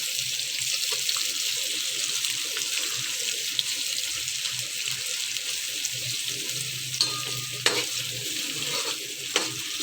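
Capsicum (shimla mirch) frying in a pan before mince is added, giving a steady, close sizzle with occasional utensil scrapes and clinks from stirring, plus a brief trickle of tap water.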